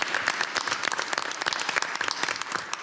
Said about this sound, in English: let's all give Anisha and the family another round of applause